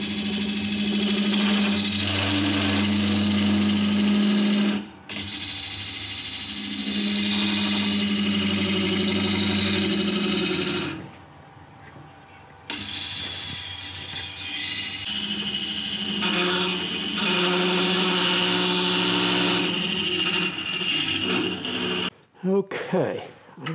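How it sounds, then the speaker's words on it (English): A wood lathe turns just under 800 rpm while a 1.5-inch scraper hollows a sycamore vase, giving a loud continuous rasping, scraping drone that runs in long stretches with brief pauses and a motor hum beneath. "I'm not gonna run the lathe too fast. That's just below 800, and that's where I'm gonna start hollowing at."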